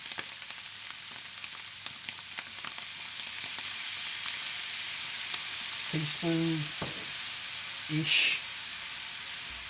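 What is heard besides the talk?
frozen peas and Worcestershire sauce frying in a pan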